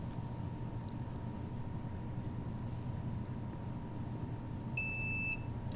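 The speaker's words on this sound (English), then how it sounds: "And there's an alarm." Microwave detector sounding its alarm, steady electronic tones with a sharp brighter beep pair near the end over a constant hum, indoors during a shielding demonstration.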